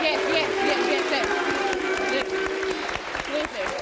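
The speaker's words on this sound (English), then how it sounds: "you don't have to clap" An audience bursts into applause during a talk-show discussion, a dense wash of clapping that stays loud throughout while voices and crowd sounds mix in underneath.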